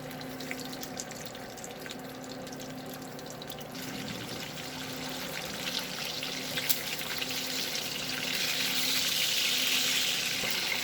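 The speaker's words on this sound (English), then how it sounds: "So I will get those put here in the hot oil and get them fried up" Bacon slices fry in hot oil in a pan, giving a steady crackling sizzle that builds gradually louder, with small pops and no talk.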